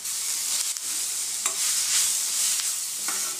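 Drumstick leaves, onion and tomato sizzle in a hot pan while being stirred, a steady soft frying hiss broken by a few scraping strokes of the spatula.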